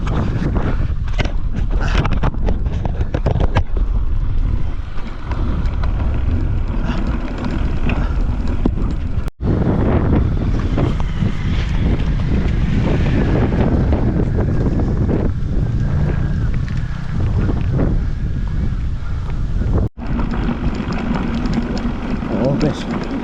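Strong wind buffets the microphone without pause on Mount Parawagan, a loud, roaring rush throughout with voices talking faintly underneath.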